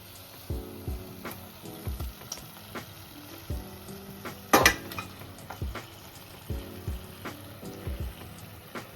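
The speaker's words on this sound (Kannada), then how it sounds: "ಇವಾಗ ಈ ಮಟನ್ ನೀಟಾಗಿ ತೊಳೆದಿಟ್ಕೊಂಡಿರೋಂಥ ಮಟನ್ ಹಾಕ್ಬೇಕು." Washed mutton pieces dropped into hot oil with masala for a mutton sambar, giving a steady sizzle and frying hiss punctuated by repeated stirring clanks, with one louder splash of wet meat hitting the pan.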